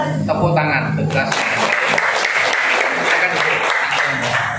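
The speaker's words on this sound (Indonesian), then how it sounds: "Tepuk tangan." A group of junior high students at a school event applauds together, dense, loud clapping that swells after a brief spoken moment and continues steadily to the end.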